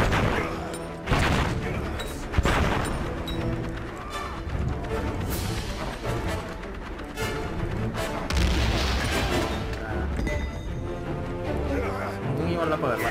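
Explosions in the First World War video game Valiant Hearts boom continuously, with heavy blasts and crackling bursts packed close together under a running game soundtrack while a player talks over them.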